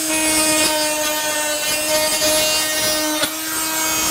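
A Fein Multimaster FMM350Q oscillating tool fitted with a scraper blade cuts into soft flooring, giving a loud, steady buzzing whine with a faint scraping texture and brief dips as the blade catches.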